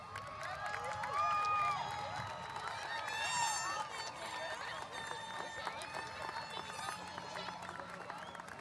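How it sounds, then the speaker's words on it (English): A graduation crowd in a large hall applauds and cheers for parents and families, a broad wash of clapping with whoops and murmuring voices, steady and somewhat distant throughout. "acknowledge their parents, family, and friends with a grateful round of applause"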